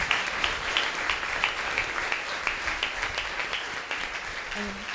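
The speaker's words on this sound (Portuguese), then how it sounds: "Vamos aplaudir ao nosso Deus por tudo aquilo que Ele realizou" A congregation at a youth worship gathering applauds God, a steady round of many hands clapping with scattered sharper claps throughout, moderately loud and alone.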